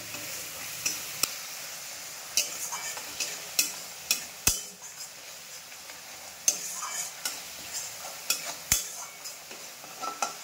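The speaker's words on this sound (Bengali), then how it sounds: "লবণ দিয়ে এটাকে তুলে নাড়তে হবে।" Chunks of elephant foot yam are stirred with salt in a pan, a soft sizzle under repeated scraping clinks of a spatula, spaced irregularly and close by.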